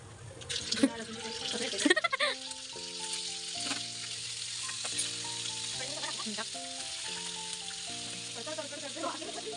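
Mustard seeds, cumin and garlic paste sizzle in hot oil for a tempering, a steady crackling fry running throughout beneath soft background music, with a few louder pops near the start.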